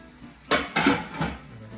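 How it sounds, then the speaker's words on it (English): Zucchini cooking in a pan on a stovetop, with soft sizzling and a few short bursts of clattering or stirring against the pan, fairly close. "cook this zucchini for a few more minutes"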